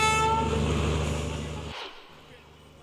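A local train at Kalyan railway station in heavy rain sounds a loud, close, sustained horn blast that fades over about two seconds into a lower rolling rumble.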